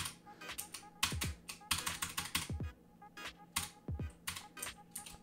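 Quick bursts of clicky keystrokes on a computer keyboard as a code is entered, close and crisp, in short uneven clusters with brief pauses between.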